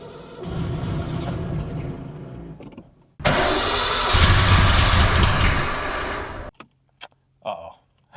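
High-horsepower V8 engine cranking after storage, a starter grinding for about three seconds, then a loud roaring catch that runs several seconds before cutting off, followed by short scattered bursts and a voice.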